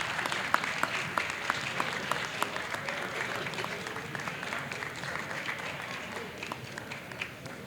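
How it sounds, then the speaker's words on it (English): Audience applause rising for school board members at a board business meeting, steady dense clapping with sharp individual claps throughout, carrying on without a break. "Let's give them a round of applause for their hard work this year."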